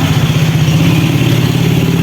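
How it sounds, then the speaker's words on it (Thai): Motorcycles run along a busy street in Bangkok's Phra Khanong neighborhood, their engines a close, loud, throbbing putter with a quick regular pulse that continues without pause. "มอเตอร์ไซค์ก็จะมีวิ่งตลอดทั้งวัน"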